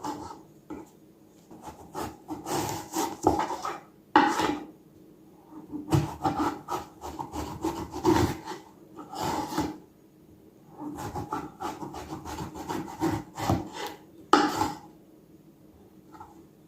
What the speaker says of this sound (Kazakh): Осындай жіңішкелікте бәрін дәл осылай турап шығамыз.